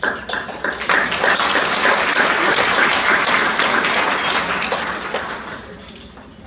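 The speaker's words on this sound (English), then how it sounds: "I want to give you a round of applause" An audience at a gala breaks into loud, dense applause that swells quickly, holds steady for several seconds, then tapers off near the end.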